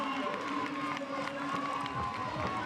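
Stadium crowd at an athletics world championships in Lyon giving sustained applause and cheering, a broad, continuous roar with a commentator talking over it.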